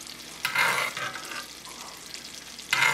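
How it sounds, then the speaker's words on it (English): A cote de boeuf steak sizzles in hot chicken fat while being basted, with bursts of spitting and splashing as fat is spooned over, then quieter frying between strokes, close and without talk. "And more basting, believe it or not, more basting."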